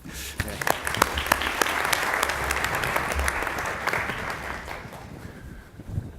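An audience welcomes a speaker to the stage at a psychiatry lecture with steady, sustained clapping from a moderately sized crowd that tapers off toward the end.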